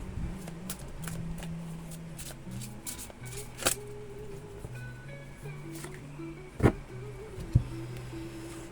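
Tarot cards are shuffled close by with soft riffling and sliding. A low hum runs underneath, and a few sharp taps are heard near the end.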